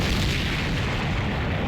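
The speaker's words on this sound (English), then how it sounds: "I blacked out just as a massive explosion rang out." A massive explosion in The Hundred Line: Last Defense video game, a loud, dense, sustained roaring blast filling the short clip without pause.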